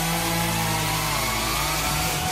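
A Forest Garden chainsaw runs continuously at high revs, loud and close, a steady dense roar with no pauses or voices.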